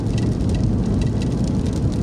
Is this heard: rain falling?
yes